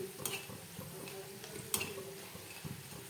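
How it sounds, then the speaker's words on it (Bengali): Snack biscuit dough being stirred in a pan over a low flame, with soft scraping strokes and light taps of the utensil over a faint gentle sizzle, close and quiet. "আর কি নাড়তে থাকবো।"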